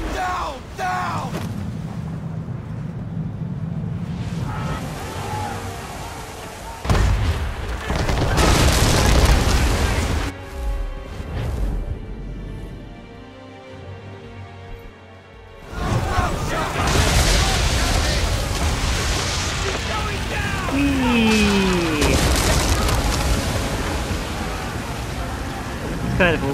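Heavy booms and blasts of cannon fire and explosions roll through a busy, rumbling naval battle scene in Assassin's Creed III, with bursts of shouting mixed in.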